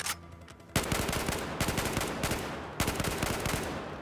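Rapid automatic gunfire in the Battlefield 4 campaign, set in the Kunlun Mountains. After a brief quiet start come loud, close, sustained bursts of dense machine-gun shots, broken by short pauses.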